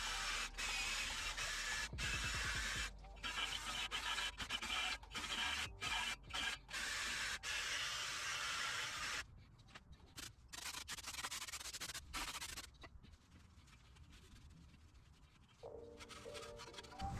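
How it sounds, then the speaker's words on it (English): Surface rust is scrubbed off the wheel hub of a 2015–2019 Ford F150 with a steady, harsh abrasive rasping that runs nearly continuously, broken by brief gaps, then drops to quieter, sparser scraping near the end. "the next thing that we want to do is to clean up this hub. So we want to remove all the surface rust."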